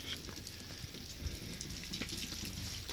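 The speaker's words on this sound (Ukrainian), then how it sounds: "Сьогодні у нас дощ." Steady, soft rain patters and hisses continuously, with faint drips scattered through it.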